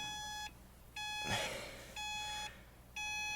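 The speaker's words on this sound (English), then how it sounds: "Usually you're gonna get that beep, beep, beep 24/7 whenever your seatbelt's not on." A Subaru Impreza seatbelt warning chime beeps inside the car, four evenly spaced electronic tones about one second apart, clear and close, with a brief rustle between them.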